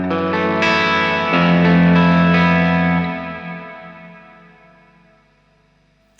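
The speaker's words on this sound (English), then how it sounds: "but the reverb stays on." Electric guitar runs through a TheGigRig G3 switcher with the reverb left on: chords strummed several times, then a sustained chord that rings out and decays in a long reverb tail, with no talking.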